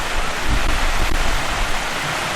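Heavy rain pelting down on a waterlogged pitch during a Rangers v Olympia football match, a dense, steady hiss of downpour that fills the whole clip without let-up.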